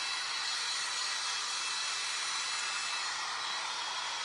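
A hair dryer blows steadily and close by, drying fresh paint on a surface that still has masking tape on it. It gives one continuous, even airy whoosh with no pauses, and no voices are heard.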